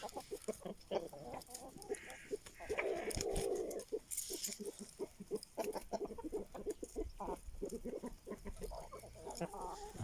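Aseel roosters cluck and call in repeated short bursts outdoors, faint and somewhat distant, mixed with light background noise and a voice now and then.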